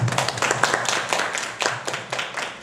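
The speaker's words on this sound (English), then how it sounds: "Let's give these inspiring people a huge round of applause" Audience applauding breast cancer survivors at an event, a dense wash of clapping that carries on throughout, with a few louder claps standing out.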